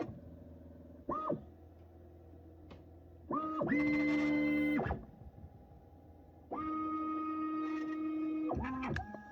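A Matrix filler machine shifts its nozzle during a fill cycle, giving a stepped, whirring motor hum that rises to a steady drone for about a second, stops, then runs again longer, with brief short buzzes between.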